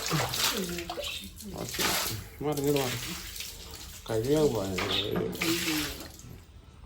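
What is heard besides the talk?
water being poured for washing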